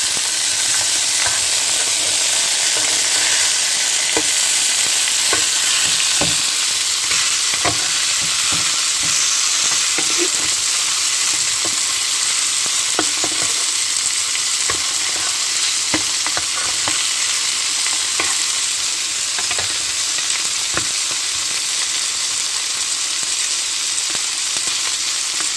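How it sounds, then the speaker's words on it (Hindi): Fresh Mangla Lake fish frying in a pan at a shop, Kashmiri style, giving a loud, steady, close sizzle and hiss that runs without a break and carries no voices. "एक साइड में मछली तैयार हो गई है, दूसरी साइड पर परतने पे"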